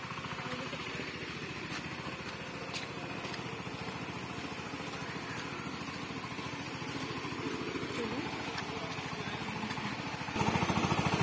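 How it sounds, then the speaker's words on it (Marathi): A farm tractor engine runs steadily in a rain-season field during planting work, a continuous low rumbling drone at moderate distance that holds an even level, swelling slightly louder near the end, with no talking. "माझे पप्पा आता ट्रॅक्टर करतायत तुम्ही बघू शकता"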